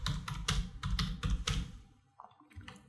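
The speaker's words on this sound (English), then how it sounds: "click over here and type your username" A username being typed on a computer keyboard: a quick run of close key taps and clicks over about one and a half seconds, then near silence and a soft final tap.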